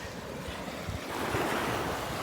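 Ocean waves and surf wash steadily at a tidal inlet on an incoming tide with a strong current. Broadband rushing water continues throughout and swells a little louder midway, with some wind buffeting the microphone and no talk.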